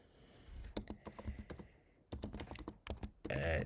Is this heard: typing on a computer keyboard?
yes